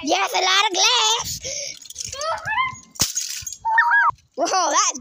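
A £1000 glass chandelier takes a bat blow, giving one sharp, loud crash amid excited high-pitched shrieks and voices.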